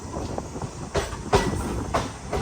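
A train pulls into Kundapura railway station, its carriages rumbling steadily with a few sharp clanks and knocks of wheels and couplings rising above the roll.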